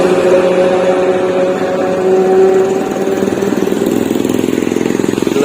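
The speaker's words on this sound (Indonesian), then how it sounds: "bus yang walaupun di kelas AC masih menampilkan dengan ciri khas knalpot ngoroknya melintas" Bintang Luragung air-conditioned bus with its characteristic snoring exhaust rolling past, a loud close engine drone that shifts into a rapid rhythmic pulsing rattle as it goes by.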